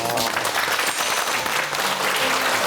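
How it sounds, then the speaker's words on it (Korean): A studio audience on a Korean talk show claps in a dense, steady burst of applause, loud and close throughout with a voice faintly underneath. "박수 박수"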